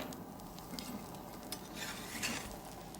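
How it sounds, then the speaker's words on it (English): A spatula works a mixture around a hot pan, soft scraping and stirring strokes over a quiet continuous sizzle, close and fairly faint. "Work with a spatula, run it round, so."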